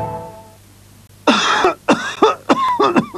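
A short hum fades out, then after a pause someone coughs loudly several times in a harsh, rasping series close by, in a 1993 French TV cough syrup commercial.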